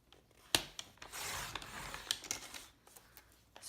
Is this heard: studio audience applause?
no